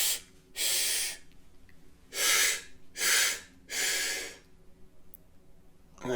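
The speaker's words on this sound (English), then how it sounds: "So let's just do a breathing exercise." A person breathes forcefully through a breathing exercise: four loud, close, hissing exhalations in a row, each lasting about a second, with quiet gaps between them.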